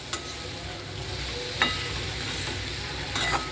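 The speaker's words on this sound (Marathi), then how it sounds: "ही तेलात भाजून घ्यायची अशी भेंडी." Okra fries in oil over low heat, a close, steady sizzle with occasional scraping clicks as it is stirred in the pan.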